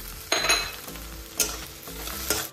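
Onions, ginger, garlic and green and dried chillies fry in hot oil, a steady sizzle broken by a few sharp scraping stirs of a spoon in the pan.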